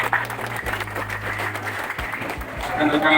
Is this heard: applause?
yes